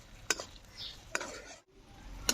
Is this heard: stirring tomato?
yes